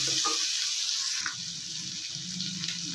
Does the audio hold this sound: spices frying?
yes